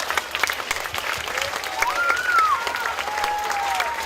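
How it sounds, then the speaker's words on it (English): Audience at a school's 50th anniversary celebration applauds the staff and parents, a steady wash of clapping and crowd noise with some whistling mixed in, no talk heard. "let's give all of our staff and parents a big round of applause"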